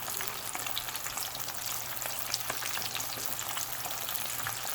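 Chicken wings for Vietnamese crispy wings fry in a pan with a dense, even crackle of hot oil, steady and close throughout, no voices.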